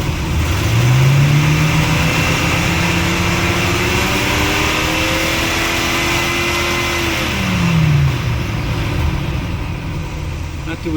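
An RV's 454 engine revs up close by, its roar climbing, holding high for several seconds, then dropping back toward idle over a steady running drone.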